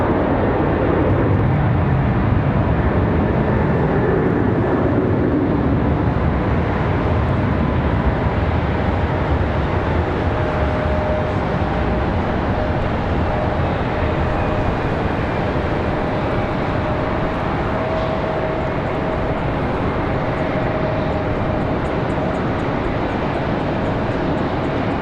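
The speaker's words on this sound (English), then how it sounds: "Got one of those 737s on the move, sounds like. It is 737-8." A Boeing 737-8 airliner moving at Charlotte Douglas airport in light rain gives a continuous loud jet engine roar with a steady whine, distant and unbroken throughout, no talking.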